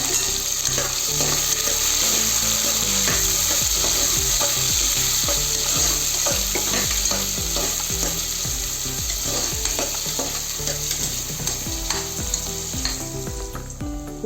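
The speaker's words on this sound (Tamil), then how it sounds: "வெங்காயம் நல்லா வதங்கட்டும்." Chopped onions sauté in a hot pan for a Tamil cowpea rice dish, a steady, loud sizzle and crackle of frying that runs unbroken throughout, with no talking.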